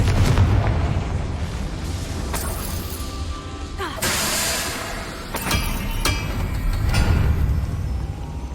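A Confringo spell bursts in a Harry Potter video game, with booming explosive blasts and shattering crashes at several points over a dense, loud game soundscape.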